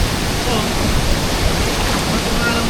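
Rushing water at Imugan Falls, a steady broadband roar of the cascade filling the air evenly and continuously, close and loud with no clear breaks.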